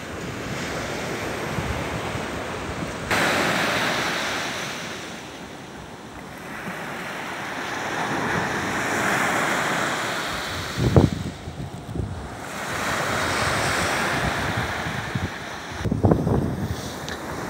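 Sea waves washing onto the beach at Malinovka near Zelenogradsk on the Baltic coast, a continuous surf roar with gusty wind buffeting the microphone and a couple of louder thumps, no voices.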